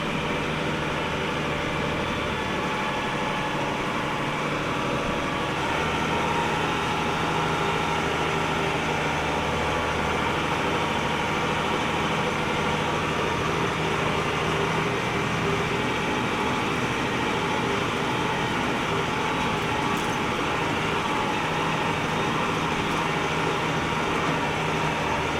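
Tractor engine running steadily while driving deep through a wet farm field during manure spreading and harrowing; continuous loud low droning with a constant hum and no breaks.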